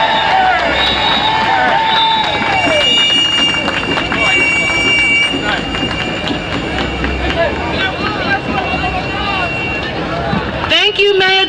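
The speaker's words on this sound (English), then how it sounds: "One more round of applause." A large crowd at a home care workers' rally cheers and applauds loudly and steadily, dense hubbub of voices and clapping filling the whole stretch, with a burst of shouting near the end.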